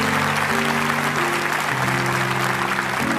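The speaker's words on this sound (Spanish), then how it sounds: "Quiero darle un aplauso a todos esos que están de pie." A church congregation applauds during a Spanish-language service, loud continuous clapping filling the space over sustained organ or keyboard chords throughout.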